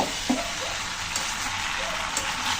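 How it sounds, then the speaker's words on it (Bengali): Spices and ingredients fry with a steady broadband sizzle in a pan as they are cooked down for a jackfruit and prawn curry, with a few faint stirring scrapes; close and continuous, no voices. "একটু সুন্দর করে মশলা দিয়ে সব কিছু কষিয়ে নিলাম।"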